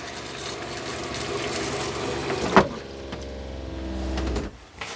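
An RV toilet running as the camper's water pump works during winterizing: a steady mechanical hum and water rush, a sharp clunk near the middle, then a lower pump drone that cuts off near the end.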